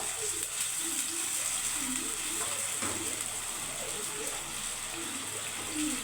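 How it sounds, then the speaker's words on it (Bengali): A splash of water poured into a hot frying pan of spiced curry, giving a steady loud hiss and sizzle throughout with a bubbling undertone, while someone talks faintly over it. "আমি অল্প একটু জল দিয়ে দিচ্ছি।"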